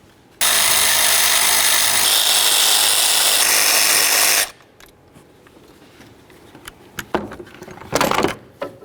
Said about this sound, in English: Now we're going to remove this stud right here.